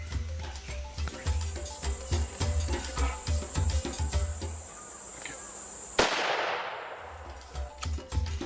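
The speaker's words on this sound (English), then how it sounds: "One shot and he was down." A single loud gunshot rings out during a hunt, a sharp broadband crack followed by a decaying rumble and echo, preceded by rhythmic rustling and handling noise nearby.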